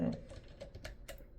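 Keys clatter in quick, uneven taps on a computer keyboard during an office computer session, soft and close, with faint voices in the background.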